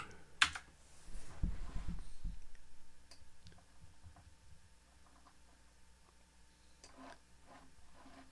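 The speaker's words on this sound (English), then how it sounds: "Actually, I'm going to type here." Typing on a computer keyboard, a quiet run of soft key clicks with a brief cluster of taps early on, then sparse, scattered keystrokes in a calm room.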